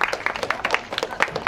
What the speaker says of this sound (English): Can we please get an applause for Ewan for this fan art?